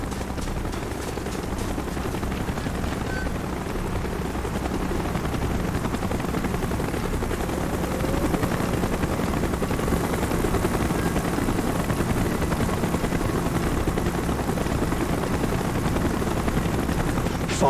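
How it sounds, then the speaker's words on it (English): Helicopter arriving in Call of Duty Black Ops, a steady loud rotor drone that swells slightly louder toward the end, with faint gunfire-like crackles and no talk. "Chopper's inbound. Move it."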